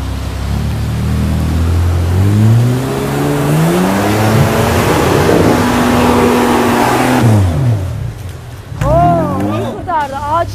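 Off-road car climbing a muddy hill stage on a rural course, its mid-pitched engine revving hard and rising, close and loud, before dropping off as people talk over the end.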